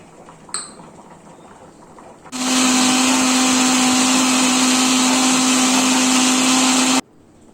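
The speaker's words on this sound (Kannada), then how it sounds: "ಇದನ್ನು ಮಿಕ್ಸಿ ಜಾರಿಗೆ ಹಾಕ್ಕೊಂಡು ಇದಕ್ಕೆ ಸ್ವಲ್ಪ ನೀರು ಹಾಕ್ಕೊಂಡು ರುಬ್ಕೋತಾ ಇದ್ದೀನಿ" A mixer grinder grinding spice paste with water for sambar starts abruptly and whirs loudly and steadily for about five seconds, then cuts off, with a brief clink just before.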